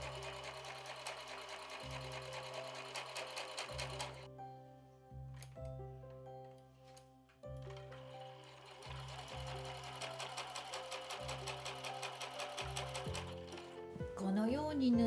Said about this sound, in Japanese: ミシンで縫います。